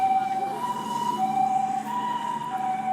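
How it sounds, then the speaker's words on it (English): A loud ambulance siren wails steadily on a Tokyo street at night along the Yamanote Line, its sustained tone holding close and prominent over low traffic rumble for the whole stretch. "It's a loud-ass ambulance."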